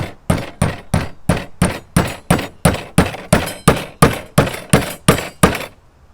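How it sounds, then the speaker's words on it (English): Steady, evenly spaced hammer taps on wood while building a hive beetle trap, about fourteen solid knocks in a row, close and loud, then silence. "And then I use my hammer. And I just tap it along like this."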